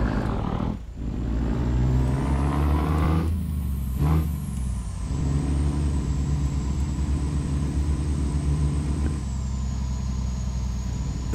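Scania 144L 530 truck driving in the Euro Truck Simulator 2 video game: a steady, deep engine drone with a sustained high whine throughout, broken by a couple of short hissing air-brake releases, with no talking.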